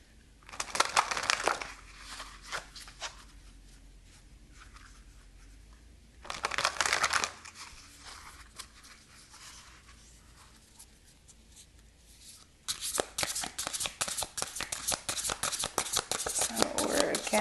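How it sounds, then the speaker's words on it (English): Oracle cards are shuffled by hand at a tarot reading, with papery riffles and brushing bursts in three separate spells and quiet pauses between them, close and moderately loud. "I'm going to pull some more oracle cards."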